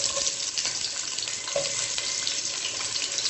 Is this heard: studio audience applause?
no